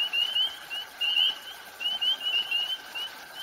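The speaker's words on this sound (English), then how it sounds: "The other one we have is called a fowler's toad, but it has little short whistle blasts." Fowler's toad calling in a series of short, high whistle blasts, several brief bursts spaced irregularly over steady background hiss at moderate distance.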